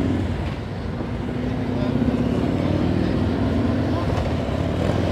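Steady engine drone of county police motorcycles moving nearby, a continuous low rumble with a slight rise partway through, no talking over it.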